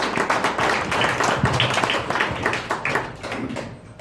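A church congregation claps together in a dense, fairly loud burst of applause that tapers slightly toward the end.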